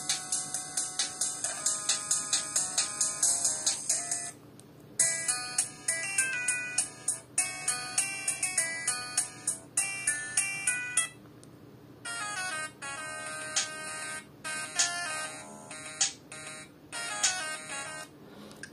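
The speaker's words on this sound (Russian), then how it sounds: "И теперь послушаем, как звучит полифония в этом телефоне. Послушаем сигналы вызова." A series of electronic polyphonic ringtone melodies from a Sony Ericsson Z320i mobile phone, bright beeping tunes playing one after another with short pauses between them.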